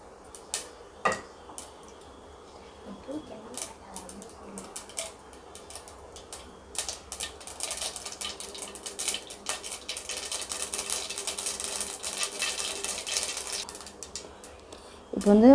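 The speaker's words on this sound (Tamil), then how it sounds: "கடுகு பொறிக்கிட்டோம்." Mustard seeds crackle and splutter in hot oil during tempering for Madras vada curry, a dense run of sharp ticking pops that swells louder and busier toward the end, close by, with a voice speaking over it.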